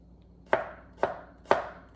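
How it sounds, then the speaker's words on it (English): A knife chops garlic cloves on a cutting board in three evenly spaced, crisp, close thuds about half a second apart, with no talking. "So you have 5 cloves of garlic chopped"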